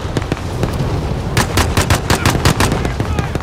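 Video game gunfire crackles in loud, rapid bursts, sparse shots at first and then a tight string of close automatic fire through the second half.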